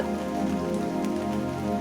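Steady, dense rain falls on a surface, a continuous even patter with no breaks.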